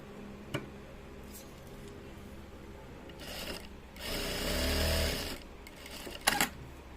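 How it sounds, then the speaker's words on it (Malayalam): A sewing machine stitches along the folded top edge of a uniform shirt pocket, running in a quiet steady whir with a louder burst midway and a few faint clicks and knocks around it. "നമ്മൾ മടക്കില്ലേ മുകൾ ഭാഗം അതൊന്ന് സ്റ്റിച്ച് ചെയ്തെടുക്കാം"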